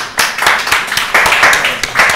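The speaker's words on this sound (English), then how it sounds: "Another round of applause, please." A small group on a barbershop podcast claps loudly and close up for the guests, with distinct hand claps in a quick, uneven rhythm.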